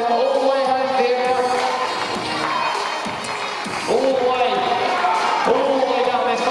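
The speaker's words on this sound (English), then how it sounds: "Let's clap her home" A large crowd at an agility competition steeplechase final cheers and whoops steadily, loud and close, with clapping mixed in and an announcer talking over the noise throughout.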